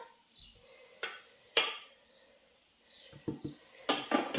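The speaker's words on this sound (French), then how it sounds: "on va racler nos oignons vers le centre" Onions scraped toward the centre of the pan while making cauliflower tabbouleh, heard as sparse utensil scrapes and sharp knocks against the vessel, separated by quiet gaps, with a cluster of louder clatters at the end.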